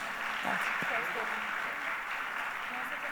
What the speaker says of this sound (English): can you please give this fantastic set of people a big round of applause